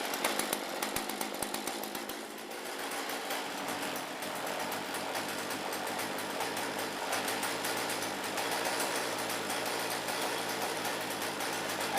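A Poulan chainsaw engine runs steadily and loudly near the listener throughout, with a rough, uneven start that settles into a sustained buzz as the clutch tries to engage.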